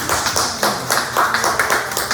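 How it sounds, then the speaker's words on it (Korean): Church congregation applauding during a Sunday Anglican Eucharist service, a dense, steady round of hand clapping from many people in a reverberant hall, continuing loudly throughout. "여러분 박수 한번 보내주십니다."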